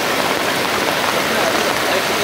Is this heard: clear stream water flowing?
yes